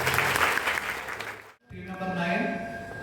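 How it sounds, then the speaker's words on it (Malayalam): Applause at a small prize announcement for a third-place win, dense clapping that fades out around the middle and returns with a tonal sound and voices over it. "നല്ല ഒരു കയ്യടി ആദ്യം തന്നെ താ."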